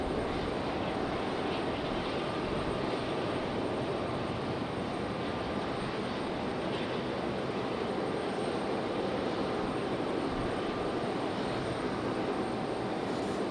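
Frontier and Delta jet airliners taxiing toward the runway end at Raleigh-Durham International Airport, a steady, broad jet-engine roar at moderate distance that holds constant throughout with no talk.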